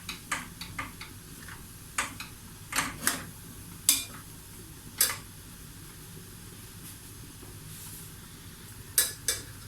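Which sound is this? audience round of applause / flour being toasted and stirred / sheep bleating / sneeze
flour being toasted and stirred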